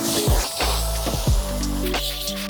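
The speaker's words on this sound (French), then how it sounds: "On vient de rincer toute la capote à fond, éliminer au maximum la mousse" Water rinsing soap foam off a car's fabric convertible top, a close, continuous hiss of spray and runoff with a few soft splashing pulses, no voices.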